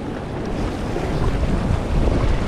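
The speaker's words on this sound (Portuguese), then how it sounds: "Mas tá vindo bastante onda agora, hein?" Ocean waves surge and wash near a boat by a shipwreck, a loud, continuous rumbling roar mixed with heavy wind buffeting the microphone.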